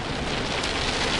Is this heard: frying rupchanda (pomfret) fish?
no